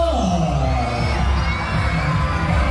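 A loud crowd cheers and shouts continuously at the Pasayahan festival in Lucena, voices blending into a dense roar throughout.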